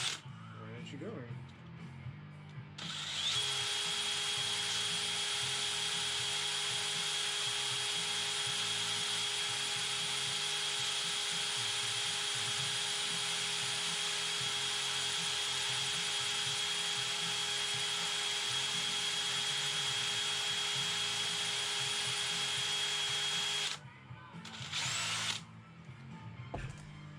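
A power drill bores steadily into a red cedar branch, a loud sustained whine holding a constant pitch for about twenty seconds before cutting off, followed by a few short bursts.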